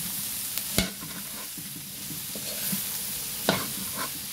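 Winged beans sauté in a pan while being mixed, a few crisp scrapes and clacks of a utensil over a low, steady sizzle.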